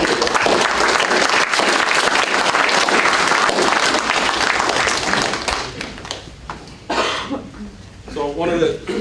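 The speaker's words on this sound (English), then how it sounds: "giving the Health Centre and the rest of the staff here a round of applause" An audience at a COVID-19 community information session bursts into a loud, dense round of applause that holds for several seconds, then thins out into scattered claps, with coughs and murmurs in the room.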